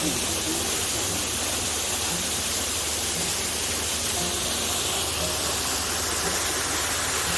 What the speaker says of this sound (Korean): 시원한 이 폭포 소리로 땀을 식히고 하려고 합니다.